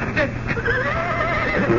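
A horse whinnies in an old-time radio drama, a loud wavering neigh near the listener, with hoof clops and a voice mixed in.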